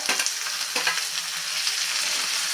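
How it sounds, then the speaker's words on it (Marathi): Chopped tomatoes frying with onion and garlic in a pan, a steady close sizzle with light stirring scrapes running throughout, no voices. "हा टोमॅटो सुद्धा छानपैकी मऊ होईपर्यंत आपल्याला ह्याच्यासोबत भाजून घ्यायचा आहे"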